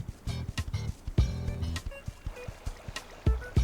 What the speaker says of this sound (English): There's something splashing in the water.